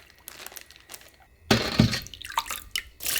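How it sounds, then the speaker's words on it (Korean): Kimchi broth poured over white kimchi in a container, a broadband splashing and dripping pour that begins abruptly partway through and continues unevenly, loud and close, with no talking. "그래서 김치 육수를 충분히 부어줘야 돼요. 이렇게 해서 물을 우에서 부어줘요."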